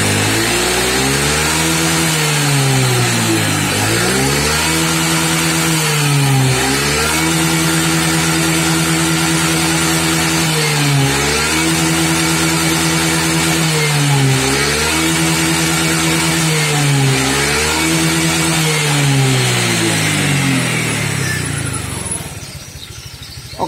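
Honda Vario scooter engine with a faulty charging coil, revved repeatedly in about five rising and falling sweeps over a steady engine drone, loud and close with no talk, dropping away at the end.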